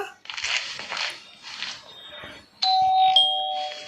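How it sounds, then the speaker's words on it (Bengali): A doorbell in the video game Schoolboy Runaway rings twice in a clear electronic chime, with sustained tones following an earlier stretch of softer game sounds. "কলিং বেলটা বাজাই তো।"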